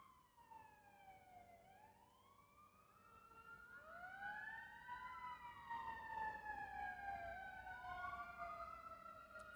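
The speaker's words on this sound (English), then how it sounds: "even as that siren is going by now" An emergency siren wails outside, several overlapping rising and falling tones sweeping past at a distance, growing slightly louder midway, with no talking.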